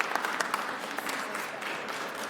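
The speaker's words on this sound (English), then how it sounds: "So give Karen a round of applause" An audience at the Serve Montana Awards ceremony applauds Karen, a soft, fairly distant patter of many hands clapping steadily without break.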